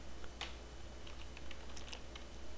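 Rapid typing on a computer keyboard, with a quiet series of light key clicks coming in small irregular bursts at close range and nobody talking.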